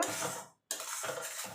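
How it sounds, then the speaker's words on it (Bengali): Kashmiri chilli powder being stirred into egg curry masala in a pan, with close, scraping spoon strokes in two bursts broken by a brief pause. "এবার ভালো করে মিশিয়ে নেব।"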